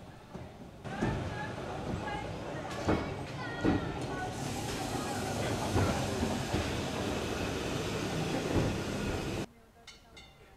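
Glasgow tram arriving at Crich Tramway Village, a steady rolling rumble with rail clicks and occasional squeals lasting about nine seconds before cutting off, with people talking in the background.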